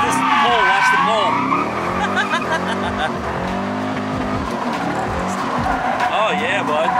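Mazda Miata drifting at Shenandoah Speedway, engine revving in rising and falling sweeps with loud, wavering tire squeal through the slides while people talk and shout over it.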